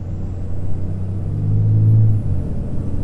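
A vehicle fitted with a Thunder Muzzle muffler runs wide open like a straight pipe on a dyno, giving a deep, steady exhaust rumble that swells louder for a moment in the middle before settling back.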